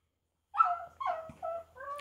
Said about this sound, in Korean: 집에 강아지들이 서로 먹을 걸 놔두고 으르렁거리네요